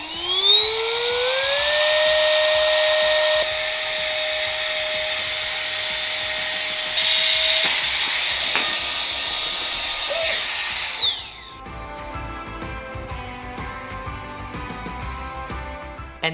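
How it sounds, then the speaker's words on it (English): A tiny portable electric air pump for inflating and deflating pool floats runs with a loud, steady high-pitched whine that rises as it spins up, holds for about ten seconds, then shuts off, leaving faint background music. "This tiny portable air pump will fit in your pool bag."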